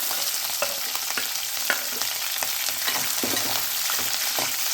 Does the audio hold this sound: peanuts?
yes